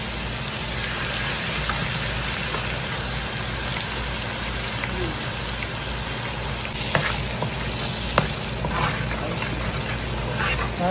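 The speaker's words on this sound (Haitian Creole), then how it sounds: "Nous mettons l'ail, puis blender. Nous mettons épices." Garlic and spices fry in a pot with a loud, continuous sizzling crackle, a few faint stirring taps and knocks heard near the end.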